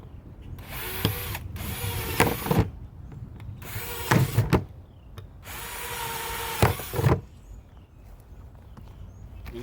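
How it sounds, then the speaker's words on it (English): A 20-volt power drill with a flat bit whirs in four loud bursts, each a few seconds long, with brief clunks and pauses between as holes are bored into a plant container. "I'm gonna drill a few holes in this container."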